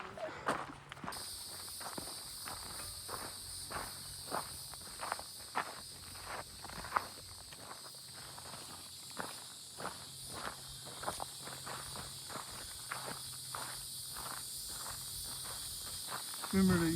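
Steady high-pitched cicada drone fills the air at Crowders Mountain State Park, with footsteps crunching rhythmically nearby and occasional voices.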